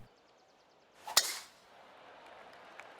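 One sharp, bright tee shot in a golf video game on a desert championship course, a crisp strike about a second in that fades into soft ambient noise, with no talk.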